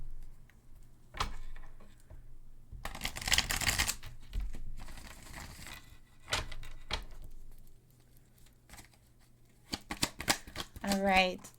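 A tarot deck being shuffled for a love card reading, with bursts of riffling and card-flicking clatter interspersed with quiet pauses and small taps, close to the microphone.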